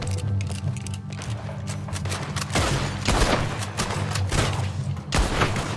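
Rapid gunfire from a shootout in Red Dead Redemption 2, loud and dense, with bursts of overlapping shots and booming blasts running throughout.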